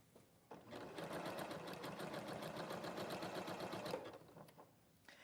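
A sewing machine runs steadily for about three seconds, zigzag stitching down appliqué pieces, with a rapid even needle chatter that starts and stops cleanly, close and clear over a quiet room.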